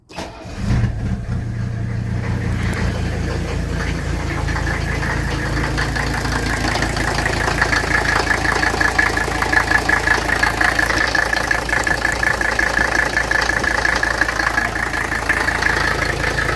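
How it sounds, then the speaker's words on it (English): A cold Mercedes OM617 diesel engine is glowed, cranks briefly and catches, then settles into a steady, loud, clattering idle that continues without a break. "it is a cold engine, so I'm gonna glow it,"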